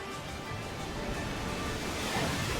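Muddy Water attack effect in a Pokémon battle game, a loud rushing wash of surging water that stays steady and swells slightly toward the end.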